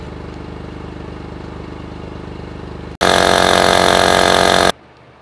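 A portable Lasfit battery air pump inflates a car tire, a loud steady buzzing motor drone that starts abruptly and runs for about two seconds before cutting off, following a quieter continuous hum.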